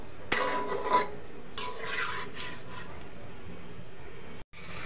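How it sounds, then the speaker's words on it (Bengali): Cauliflower being stirred with spices in a pan, a few soft scraping and rubbing strokes of a utensil against the pan, quiet and close with no talk. "এখন আস্তে আস্তে মশলাগুলোর সাথে ফুলকপিগুলোকে নেড়ে চেড়ে মিশিয়ে নেব।"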